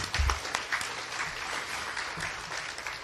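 A political candidate forum audience gives steady, dense applause: many hands clapping together in a continuous wash, fairly loud and sustained throughout with no pause.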